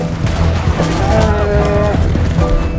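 Loud, drawn-out cow moos in the video game Red Dead Redemption 2, over a busy, rumbling game background, with a few thumps mixed in.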